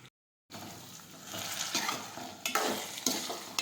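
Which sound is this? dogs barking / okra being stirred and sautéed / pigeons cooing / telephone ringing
okra being stirred and sautéed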